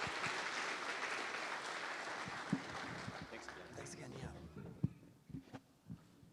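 Audience applause at a housing conference, a broad wash of clapping that thins out over the last few seconds, with scattered louder claps and thumps near the end.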